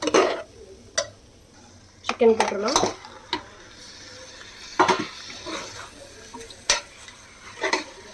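Metal spoon scraping and clanking against a pot while chicken is stirred into biryani masala for seeraga samba chicken biryani, in irregular close bursts with faint sizzling underneath.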